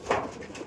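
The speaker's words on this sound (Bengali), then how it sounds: "ওই সাইডে মেলটা ডাক দিচ্ছে" A male pigeon of a Madrasi flying breed coos once, a soft low burst near the start followed by faint murmuring in a quiet loft.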